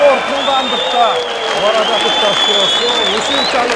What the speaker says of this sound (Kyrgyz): көпчүлүктөгү аянбастан алкап, кызуу кол чаап алуу менен тосуп алды